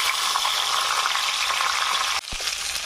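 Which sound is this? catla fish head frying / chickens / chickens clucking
catla fish head frying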